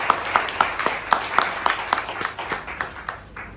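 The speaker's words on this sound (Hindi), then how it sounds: "अपने मित्रों के लिए आप जोरदार तालियां बजाइए" An audience at a Hindi motivational talk on Friendship Day claps together, with sharp individual claps standing out in a quick, uneven rhythm that thins and fades toward the end.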